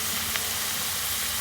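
A dense, steady hiss of vegetables frying in a pan, close and even for a brief moment with no talk.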